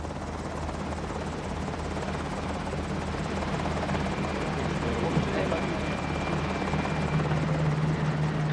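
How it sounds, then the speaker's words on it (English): A helicopter shuttling a passenger across the sea to the bow of the research ship Calypso, a steady rotor drone that holds throughout, with a narrator's voice over it. "Captain Cousteau, after a jet flight from France, is shuttled by helicopter to the bow of Calypso."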